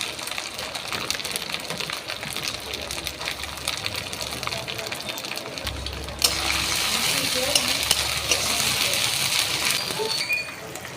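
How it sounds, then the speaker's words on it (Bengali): Ginger-garlic paste frying with onions and tomatoes in a pan, with steady sizzling and stirring scrapes that grow louder partway through. "আদা রসুনের পেস্টটা একটু ভালো করে ভেজে নেব"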